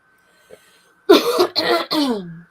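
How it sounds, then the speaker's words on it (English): A single close, loud bout of coughing, three harsh bursts in quick succession after a moment of near silence. "I might still cough a little"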